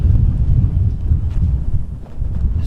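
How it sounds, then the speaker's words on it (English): Strong gusts buffet a microphone outdoors at a football match, a continuous loud low rumble with surging, uneven bursts throughout. "The weather was so windy up here."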